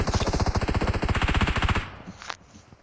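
Rapid automatic gunfire in PUBG Mobile rattles out as one loud burst of evenly spaced shots, then cuts off and leaves a faint tail with a brief click.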